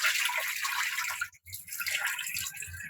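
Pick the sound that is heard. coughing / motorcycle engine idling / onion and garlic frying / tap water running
tap water running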